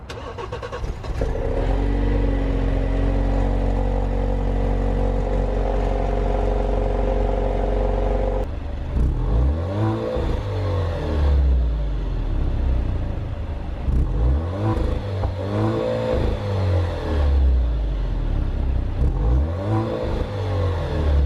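A 2017 Alfa Romeo Giulia engine idles with a steady low rumble, then is revved repeatedly in sharp bursts that rise and fall, loud and close.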